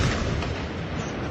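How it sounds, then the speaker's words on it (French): A burst of explosions from an Israeli military operation in the town of Tubas rumbles and booms loudly, with dense low thumps and no talking over it. "Des explosions à Toubas."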